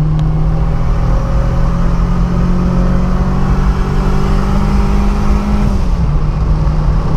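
A Volkswagen Santana Quantum turbo with a 2E carburetor pulls hard in third gear, its engine droning loudly and steadily with rising pitch, then shifting tone near the end, heard from inside over road noise without talking.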